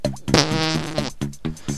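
A wet, sputtering fart sounds close and fairly loud, breaking into several short bursts after an initial longer rasp.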